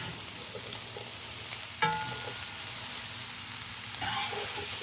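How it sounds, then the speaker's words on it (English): A pot of chorizo and chicken jambalaya with corn is stirred while it cooks, giving a steady sizzle with a couple of scraping knocks from the spoon, close up and with no talking. "I'm going to just stir this for a minute or two."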